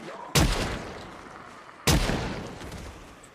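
Two heavy gunshots from Project Zomboid, a zombie apocalypse game, fire about one and a half seconds apart, each a sharp loud crack trailing into a long booming decay, with no talk over them.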